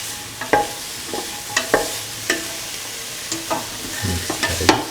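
Cauliflower rice sautéed in a pan gives a soft sizzling under repeated scraping and clinking stirs, close and irregular, several strokes in quick succession.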